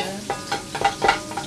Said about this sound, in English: It's really good when you put that little bit of onions in your in your oil while it's getting ready right there